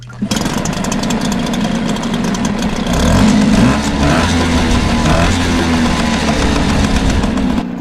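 A Hangkai outboard motor idles steadily and loudly up close, its engine note shifting and surging partway through as it catches and runs again, with no talk over it.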